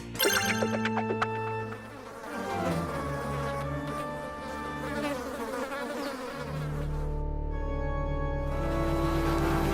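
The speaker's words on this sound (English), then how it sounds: "Vulture bees, I choose you." A dense, droning buzz of many bees fills the clip, steady and close, with a brief dip in the middle before the swarm noise swells again.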